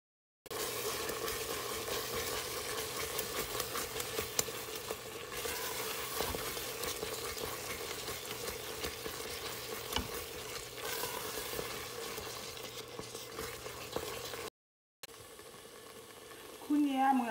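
Sweet potato bread batter with sugar being stirred in a bowl, a steady, continuous scraping and slushing that runs for most of the stretch before a short break and a brief rustle at the end.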